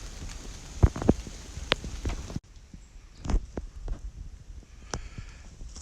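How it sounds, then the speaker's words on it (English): Light rain patters on the Allegheny Trail, scattered drops and taps close by against a soft hiss, with a few sharper knocks early and a quieter, thinner stretch afterward. "as you can hear, a little bit of rain"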